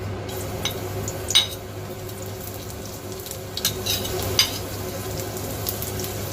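Shallots sizzling in hot oil in a wok while cooking a prawn and vermicelli pot, a steady close frying hiss with a few sharp clinks of a utensil against the pan.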